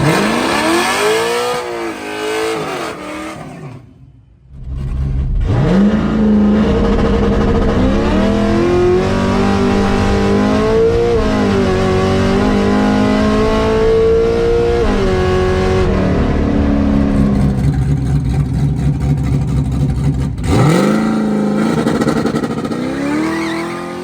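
A drag race car with a 408 engine making a pass at a raceway: a brief lull, then a loud launch and sustained hard acceleration through gears, heard close without any talk.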